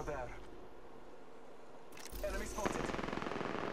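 Bursts of rapid gunfire crackle in an Apex Legends match from a Havoc or Devotion rifle, quiet at first, then a loud, dense volley in the second half.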